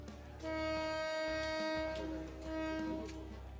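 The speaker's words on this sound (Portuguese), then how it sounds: "Aquela buzina alta os avisa que o trem está em movimento" A train's loud horn blows at the Maeklong railway market in Thailand, where the track runs through the street: two sustained tonal blasts over low rumbling, no talk.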